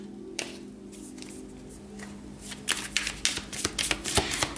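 Tarot cards being shuffled up close: crisp, rapid riffling bursts that start after a quiet stretch with a low steady hum, growing louder and more frequent toward the end.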